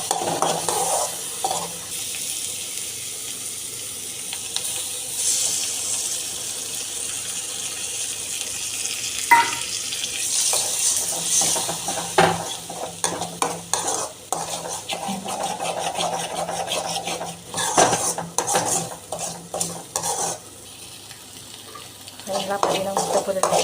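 A spoon or spatula stirs egg fry with sautéed onions in a pan, scraping and clinking irregularly amid light sizzling, with scattered louder knocks and a faint running-water-like hiss, no speech.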